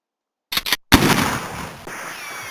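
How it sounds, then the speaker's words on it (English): A sharp gunshot sound effect: two quick clipped pops, a short gap, then one loud close blast whose echoing tail decays over about a second, with no voices. "And also, a gunshot."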